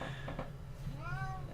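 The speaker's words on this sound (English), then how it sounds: "My cat is just gonna talk this entire game" House cat meowing once near the end, a rising-falling cry over a steady background hum, moderately faint and close, with no speech.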